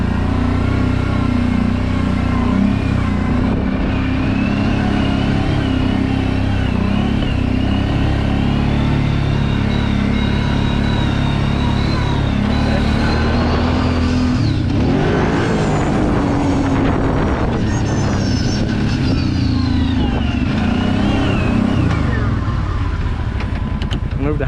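A Kawasaki Brute Force 750 ATV driven over rough, rutted terrain, its engine droning loud and close with revving surges and bumps throughout, while a voice talks intermittently over it.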